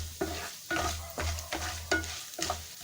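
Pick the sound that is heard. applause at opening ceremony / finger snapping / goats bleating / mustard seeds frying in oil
mustard seeds frying in oil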